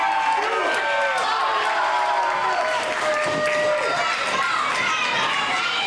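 A wrestling event crowd cheers and roars in a steady, dense wash of noise, with a commentator talking over it throughout.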